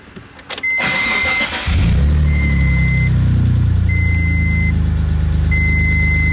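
A car engine starts up after repair and settles into a steady, loud idle with a low rumble, while a high thin tone beeps intermittently over the running engine.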